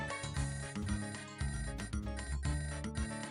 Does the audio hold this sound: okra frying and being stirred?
no